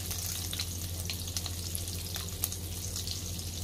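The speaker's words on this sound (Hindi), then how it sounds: "कढ़ाई में थोड़ा सा ऑयल डाला है कि बटर जले नहीं और बटर को अच्छी तरह से मेल्ट होने देंगे।" Butter melting in a little oil in a kadhai while making restaurant-style dal makhani, giving a steady soft sizzle with a low hum underneath and occasional faint pops, no talking.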